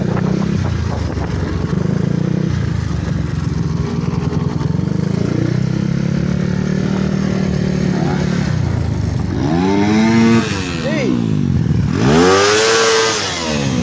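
A Sigma motorcycle upgraded with a CBR 300cc engine revs loudly and steadily up close, its pitch climbing and falling in several sweeping bursts toward the end.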